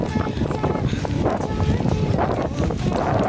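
Strong wind at a beach in Dahican roars and buffets the microphone continuously, a rough, gusty rush with faint voices nearly lost underneath.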